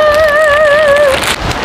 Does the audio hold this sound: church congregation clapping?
no